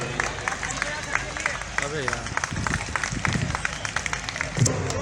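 A school event audience gives sustained applause, with steady dense clapping and crowd hubbub running throughout, and a voice speaking over it.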